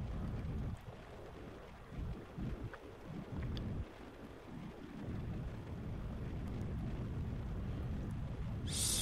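A rocket engine ignites and burns in Kerbal Space Program, a steady low roaring rumble that holds loud and continuous from start to finish, with a brief bright hiss near the end.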